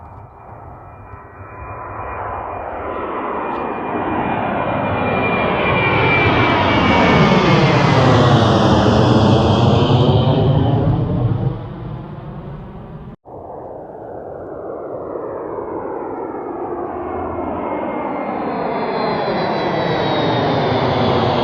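A jet airplane rolls down the runway and takes off, its roar building from a distant whine to a loud close rush that peaks and then slowly fades as it climbs away.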